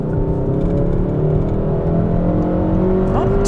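A 2021 Kia K5 GT engine pulls hard under throttle, a loud, steady droning whir with rising harmonic tones through a corner, close and continuous with no voices.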